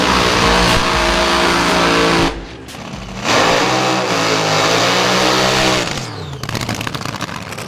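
A Top Fuel dragster at a drag racing meet roars through a burnout, its engine loud and close with a raw, dense blast that dips briefly, surges back, then drops into a rougher, crackling rumble near the end.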